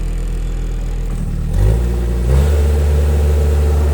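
A PB50 machine's engine revs up from a steady rumble, climbing in two distinct surges before holding at a higher, louder drone, close and alone with no talk.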